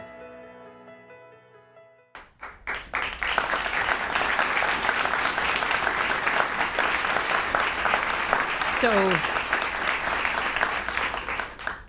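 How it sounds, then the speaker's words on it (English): Audience applause at a company all-hands event with a retired astronaut, starting suddenly after a quiet opening with a brief spoken word, then sustained dense clapping from a large crowd that carries steadily to the end. "So keep clapping in the spirit of this all hands"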